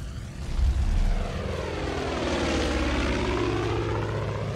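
A propeller airplane drones steadily overhead in the video game Far Cry 5, a sustained engine hum that swells slightly early on, with no one speaking.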